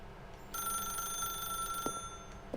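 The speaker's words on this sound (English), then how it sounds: "Stanley, did you just unplug the phone?" Electronic telephone ringing inside the video game The Stanley Parable, a steady tonal ring with bright harmonics that begins sharply and sustains throughout, with a couple of brief clicks near the end.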